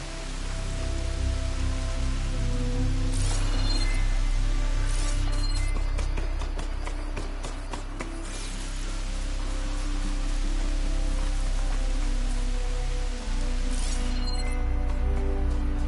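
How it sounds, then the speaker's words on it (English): Steady rain pours down in Horizon Forbidden West, a dense, continuous wash of noise with scattered droplet ticks and occasional brighter splashes, alone without talk. "How long is this rain gonna last?"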